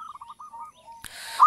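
A zebra dove (perkutut) calling, a short run of soft cooing notes, fairly clear and alone, ending in a brief burst of background noise.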